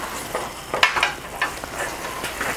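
Cheese sauce with mozzarella and Gruyere bubbling in a pot, giving a soft continuous sizzle with scattered brief pops and light stirring scrapes, close and fairly quiet.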